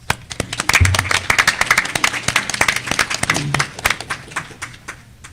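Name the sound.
audience applause for panel introducer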